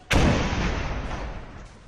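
A loud explosion booms from army operations near the Line of Control in the Akhnoor area of Jammu and Kashmir, striking sharply and then rumbling and echoing for nearly two seconds.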